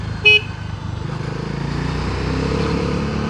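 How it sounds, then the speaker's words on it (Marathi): A short horn toot cuts in at the start over the low rumble of engines in city traffic, with a truck nearby and motor noise droning steadily to the end. "ये ट्रक वाला है"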